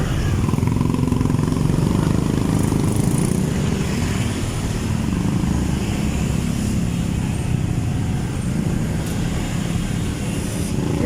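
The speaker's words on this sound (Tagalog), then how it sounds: "sobrang traffic po, talagang hindi makatakbo ng mabilis po yung mga motor po dito" Motorcycle engines drone continuously amid heavy, slow-moving traffic, a dense, steady mix of nearby engine noise without pauses.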